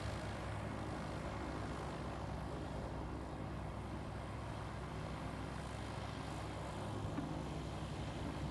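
An aircraft takes off in the video game Space Engineers as a broad, steady engine roar with a constant drone and no rise or fall, and no one talks over it.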